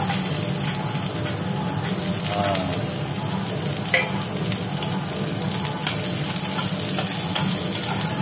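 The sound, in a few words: onions frying in oil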